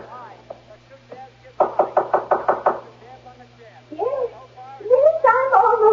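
A fist knocks on Mother's door in a house, a quick run of about seven sharp, close raps, with someone speaking briefly before and after.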